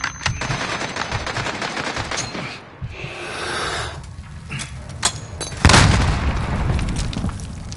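A machine gun fires in a Modern Warfare video game campaign battle, rattling bursts up close with heavy booms and a louder blast partway through, no talk over it.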